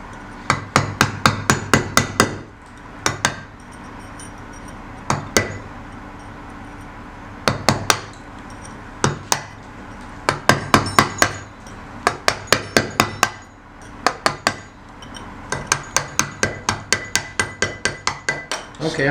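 Repeated bursts of sharp, ringing hammer blows on a chisel cutting letters of a monogram into stone, struck in quick rhythmic runs of several hits each, close and loud, with short pauses between runs.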